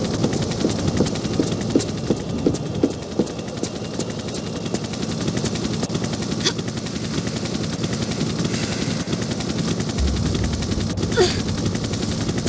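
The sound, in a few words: helicopter in Tomb Raider video game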